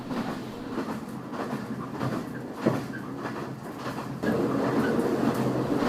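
A sleeper car of a moving train rolls along with a steady rumbling clatter and broadband rail noise, one brief clunk midway, and the roar growing louder for the last couple of seconds.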